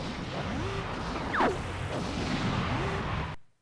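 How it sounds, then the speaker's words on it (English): An explosion in the video game Star Fox 64 sounds as a dense crashing rumble with a brief whooshing burst in the middle, running steadily before cutting off abruptly. "After the explosion, we see that James disappears"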